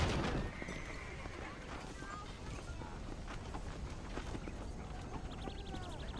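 A horse in the video game Red Dead Redemption on PS5 neighs and clip-clops along amid ambient game sound, with a voice talking over it.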